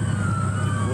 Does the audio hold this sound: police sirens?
yes